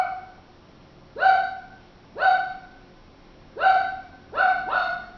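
A neighbour's dog barks next door in sharp, fairly loud single barks, spaced about a second apart with a quick double bark at the end, heard alone against a quiet room.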